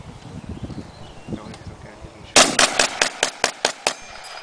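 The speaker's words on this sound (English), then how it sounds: "M1 rifle, as Dan mentioned, fired from an 8-round clip called an end block." M1 rifle fired in a rapid string of about eight sharp, loud shots at a WW2 living history event at Old Bethpage Village Restoration, following a stretch of low background murmur.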